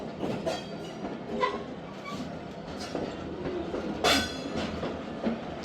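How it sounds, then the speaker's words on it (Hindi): Khyber Mail train arriving at a station four hours late, a continuous low rumble of rolling wagons with irregular wheel clicks and a brief metallic squeal, nearby, with no voices. "चार घंटे लेट चलकर 4 घंटे लेट आई है ट्रेन।"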